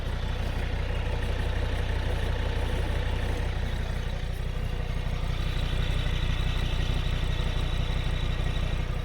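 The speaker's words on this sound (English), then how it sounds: "Let's listen to that exhaust sound." The exhaust of a 1985 Mercedes-Benz 300CD idles steadily, a low continuous rumble with a slightly uneven pulse, no voices.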